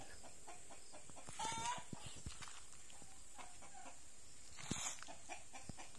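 Rhode Island Red chickens clucking on a rural farm, scattered soft clucks and short calls at moderate distance over a quiet outdoor background, with a couple of louder squawks and no one speaking.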